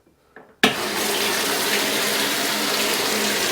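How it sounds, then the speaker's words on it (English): A top-loading clothes washer running off an inverter in an off-grid setup starts filling with water: after a faint click and a brief pause, a loud steady rush of water begins and runs on evenly, close by, with no voices. "so let's go ahead and turn the washer on."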